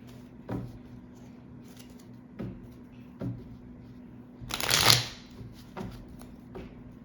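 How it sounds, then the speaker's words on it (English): Tarot cards being shuffled give soft taps and riffles, then a brief burst of fluttering as the cards fly loose, followed by quiet clicks. "Whoa, the cards just went flying."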